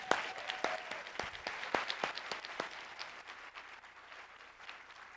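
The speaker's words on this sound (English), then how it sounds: "Give them a round of applause." A conference audience applauds its speakers at an APRA Talks 2017 event, with a burst of many hands clapping loudly at first, then thinning and fading over about five seconds.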